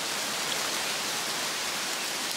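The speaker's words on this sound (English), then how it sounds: "It's starting to rain and it's really, really cold." Steady rain hisses down in a dense, even wash of noise, continuous and fairly soft, with no voices.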